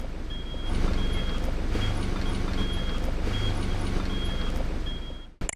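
An Iveco off-road truck on 37-inch mud tyres reverses with a loud diesel engine idling nearby and a high, evenly spaced backup beeper repeating, ending with a short clunk as it stops.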